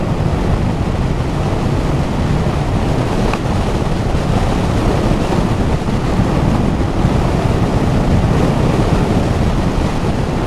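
Loud, constant wind roar rushing past the microphone of a moving motorcycle, a dense unbroken rumble with no voices.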